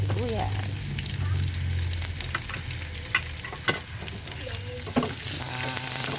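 Garlic and onion sauté in a hot pan of oil for bagoong alamang, a steady close sizzle with occasional stirring clinks and scrapes, and no talk over it.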